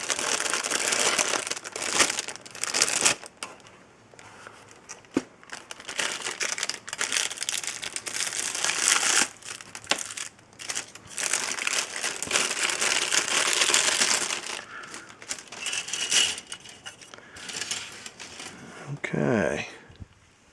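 Plastic parts bags from a 1/72 scale E-75 walking tank model kit crinkle and rustle in bursts as they are handled and opened up close, with short pauses between the crumpling sounds.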